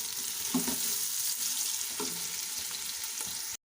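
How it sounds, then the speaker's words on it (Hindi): Onions browning in about a cup of hot oil make a continuous, close sizzle. A few stirring knocks break into it before it cuts off abruptly at the end. "ये मैंने 1 कप के करीब ऑयल लिया है और इसमें मैंने प्याज को ब्राउन करने के लिए रख दिया है"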